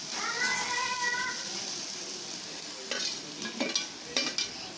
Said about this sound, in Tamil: இஞ்சி பூண்டை போட்டுக்கணும். நல்லா வதங்கட்டும்.